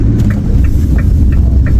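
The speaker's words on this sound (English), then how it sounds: "So we in a pretty high traffic area" Steady low rumble of road traffic in a busy commercial area, heard from close by with faint passing tire hiss and a few soft intermittent chirps over the continuous drone.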